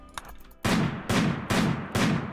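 Gunfire in the video game Rimworld aimed at rats: four sharp, loud shots spaced about half a second apart, each decaying quickly.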